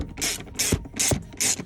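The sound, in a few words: tightening T50 screws on car seat mounts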